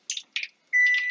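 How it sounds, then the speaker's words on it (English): A kitchen timer beeps in short electronic bursts, two quick beeps followed by a longer steady tone, loud and close, with no talking over it. "There's the timer."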